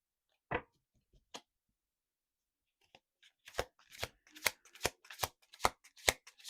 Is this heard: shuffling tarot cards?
yes